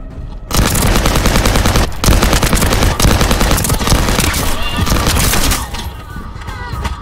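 Rapid bursts of automatic gunfire fill a shooter video game, The First Descendant, a dense, loud, continuous rattle of shots that runs for several seconds before easing off near the end.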